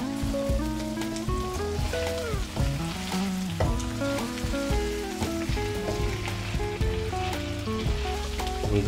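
Fish masala curry with cumin powder gets a final mix in the pan, a soft sizzle and stirring sitting under loud continuous background music.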